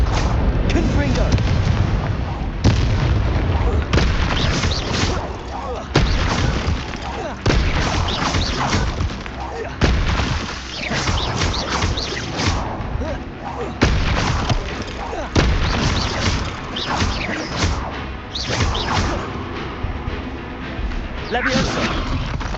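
Confringo spell blasts in Hogwarts Legacy: repeated loud, booming fiery explosions in a steady series, mixed with combat sounds and spell-casting voices.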